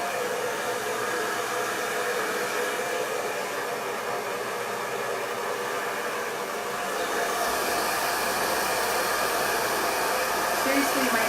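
A handheld hair dryer on its cool setting blasts air at hair roots, giving a loud, steady, continuous whoosh that swells slightly partway through, with no talking.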